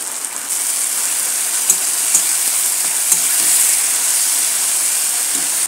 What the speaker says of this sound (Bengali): শুটকি মাছটা ভাজা ভাজা হয়ে গেছে।